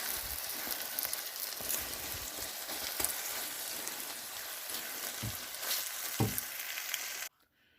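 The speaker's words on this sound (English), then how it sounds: "You want to make sure the eggs are fully cooked." Eggs sizzle and crackle steadily in a pan, a dense continuous frying hiss with a few soft clicks of a utensil, fairly quiet and close, ending abruptly.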